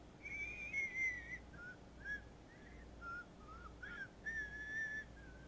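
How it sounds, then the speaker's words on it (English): Faint, distant whistling with a warbled, distorted tone, drifting in a few wavering phrases over a steady low rumble of wind, with no voices. "it's like someone's trying to whistle, but it's very distorted."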